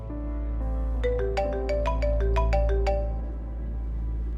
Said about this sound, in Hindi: राहा क्यों कॉल कर रही है मुझे?